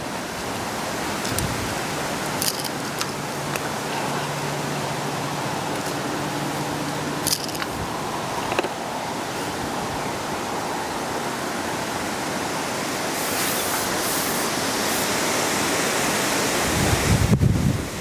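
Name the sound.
strong swirling wind at a fishing match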